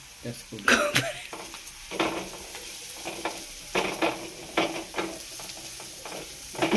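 Coconut frying in a pan on the stove for a homestyle Borsuri dal: a steady sizzle under repeated scraping stirs of a spoon against the pan, close and moderately loud.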